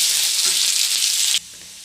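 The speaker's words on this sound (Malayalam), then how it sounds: "രണ്ട് വറ്റൽമുളക്, കൊച്ചുള്ളി, ഇതെല്ലാം ഒന്ന് മൂക്കട്ട് കൊടുക്കണം" Dried red chillies and shallots fry in hot oil with a steady, close, bright sizzle that drops abruptly to a quieter hiss near the end, with no voices.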